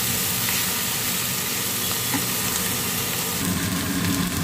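Bitter gourd frying in oil with garlic and a little ground cumin, giving a steady, close sizzle and hiss that runs on without a break and without talk.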